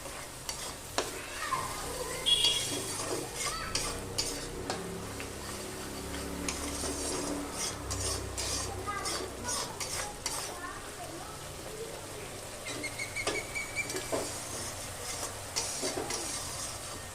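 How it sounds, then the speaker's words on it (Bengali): Tangra fish masala with a little water sizzling and being stir-fried in a pan, a continuous close sizzle with frequent spatula scrapes and ticks against the metal. "জলটাও আমি এর মধ্যে দিয়ে দিলাম, ভালো করে কষাবো।"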